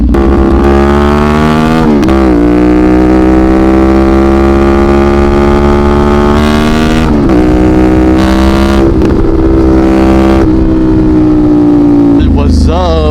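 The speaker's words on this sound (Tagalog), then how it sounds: "Napaka-traffic." Cars and motorcycles crowd heavy early-morning road traffic, engines droning and revving nearby with shifting pitches and brief surges, while someone talks over the noise.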